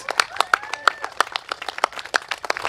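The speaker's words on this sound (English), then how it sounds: "Let's give her a big round of applause, please." Scattered hand claps from a small outdoor crowd at a political election rally in a field beside Boon Lay Way, welcoming candidate Kala Manikam, sharp uneven claps over a few seconds with faint voices and whistles mixed in.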